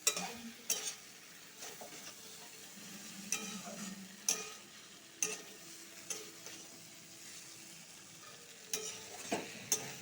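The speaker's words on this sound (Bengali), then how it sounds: "মশলাটা ভাজা ভাজা হয়ে গেছে" Quiet sizzling of spices frying in a pan for a squash and potato curry, broken by sharp scraping and clicking stirs at irregular intervals; no talking.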